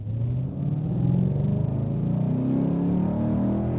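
Simulated car engine from an NVH driving simulator, a steady low rumble that climbs in pitch as it accelerates through a gear change, loud and alone with no talk.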